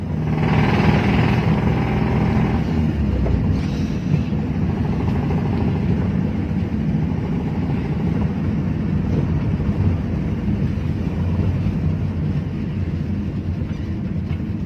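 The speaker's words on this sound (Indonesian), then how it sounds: "Nih suara mesin udah mulai gak karuan nih." Engine of a Timor car running rough, a steady loud mechanical drone with uneven, rattling texture that continues without a break for about fifteen seconds, with no one talking.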